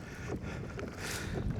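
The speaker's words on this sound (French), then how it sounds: "mettons que je suis pas mal dans le vent ici" Gusty wind buffets the microphone while kayaking on a reservoir, a steady low rumble with brief louder rushes and faint water splashing, no voices.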